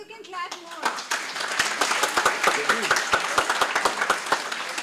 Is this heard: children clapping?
yes